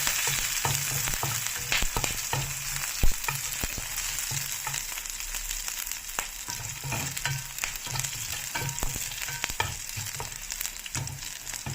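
Curry leaves and green chillies frying in hot oil, a continuous crackling sizzle with frequent sharp pops and a few stirring clicks, close and even throughout, with no speech.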